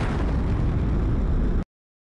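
A rocket explosion in the video game Final Fantasy VII: one loud, dense, sustained blast of roaring noise that cuts off abruptly after about a second and a half, leaving silence.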